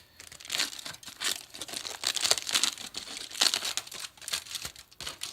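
Foil wrapping around a Keto Brick crinkles and crackles in repeated close, bright bursts for several seconds, with no talking.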